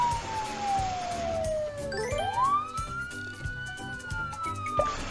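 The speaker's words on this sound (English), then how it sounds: "Oh, we created a police car." A police car siren in the Mechanic Max kids' video game wails, its tone sweeping down and then rising into a long sustained note over a repetitive game music loop.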